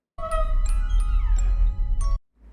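A grandfather clock chime playing the puppet theme from the FNAF 2 trailer: bright tonal bell notes struck in a short melodic run of about five hits, ringing clearly, then cutting off abruptly.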